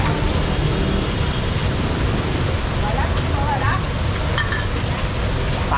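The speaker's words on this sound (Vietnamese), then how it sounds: "Đây là mưa." Heavy rain pours down in a dense, steady hiss at a Vietnamese street stall selling fried fish balls, with people talking underneath.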